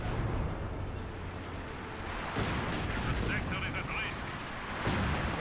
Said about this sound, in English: Got all the force back, and another light artillery barrage out here from Sakura.